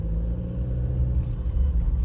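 A Toyota Fortuner driven in sports mode gives off a low, steady engine and road rumble from inside the cabin, continuous and moderately loud with no talk over it.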